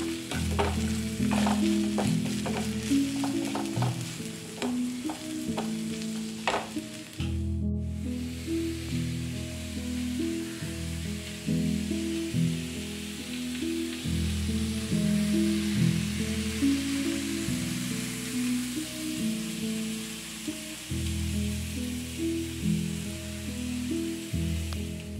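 A carrot dish stir-fried in a hot oiled pan, steady loud sizzling under repeated scraping and clattering of a spoon mixing, a brief pause partway, no talking.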